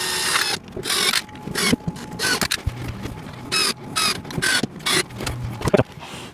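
Screws being driven by hand into the panels of a VEVOR seven-tier rotating shoe rack tower during assembly, giving repeated short ratcheting and clicking bursts separated by brief pauses, close and fairly loud, with no talking.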